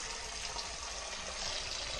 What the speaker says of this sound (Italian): Quindi andiamo a riempire l'acqua.